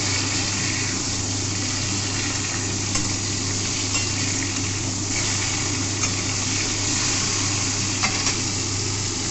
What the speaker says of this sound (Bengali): এক পিঠ আমার ভাজা হয়ে গেছে, এবার উল্টে দিলাম।